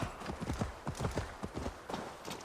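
Horse hooves clip-clop at a steady trotting rhythm in the Viking-era game Assassin's Creed Valhalla, close and distinct, each hoofbeat a short thud over light ambient wind.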